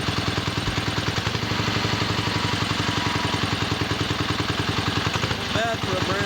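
Old chopper motorcycle with a brand new engine idling close by, a steady loud rhythmic throb with clattering that runs throughout, while a voice speaks briefly near the end.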